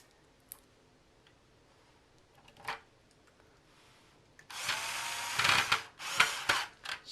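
Screws driven back into a Nintendo NES console with a power driver, a few faint clicks first, then loud whirring bursts in quick succession.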